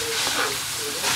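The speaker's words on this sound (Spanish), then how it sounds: "Es importante mover siempre las papas cuando están friendo" Potato pieces fry in hot oil with a steady broad hiss and sizzle, fairly loud and close, with a voice faintly present underneath.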